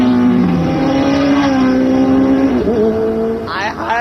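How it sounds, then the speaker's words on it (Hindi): Busy road traffic gives a loud, steady engine drone that holds throughout and shifts pitch as cars pass close by. A voice breaks in briefly near the end. "हाय कितना ट्रैफिक है।"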